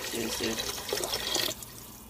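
Water pours into a pot of kale and lentil soup, a steady splashing stream lasting over a second before stopping, close and moderately loud in a home kitchen.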